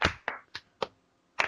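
Hand clapping in an uneven rhythm, five sharp claps with a longer gap before the last, close and alone with no voices.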